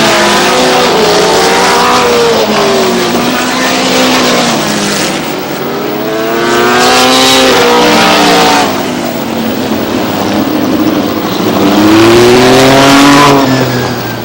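Race cars roar loudly past at Star Speedway, several engines rising and falling in repeated passes with pitch sweeps as they come and go near the track.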